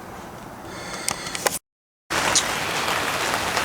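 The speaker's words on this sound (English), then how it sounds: "Well, it is pouring the rain still." Heavy rain hisses steadily, broken by a few sharp clatters and a brief gap of silence before the downpour resumes.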